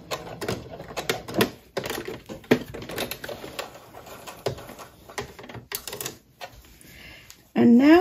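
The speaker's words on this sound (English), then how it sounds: "I will do a back stitch right back over it to make it nice and secure" A sewing machine back-stitches the seam of a Christmas stocking, giving a rapid mechanical clatter that starts and stops in short runs, up close, with a louder burst near the end.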